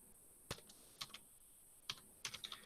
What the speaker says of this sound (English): I'm typing this into the chat room.